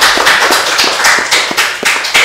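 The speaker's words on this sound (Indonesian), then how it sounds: "Tepuk tangannya mana pemirsa?" Audience clapping at a waste-management discussion event in Mataram, a burst of loud rhythmic claps close by, fairly sparse and even-paced, with no talk over it.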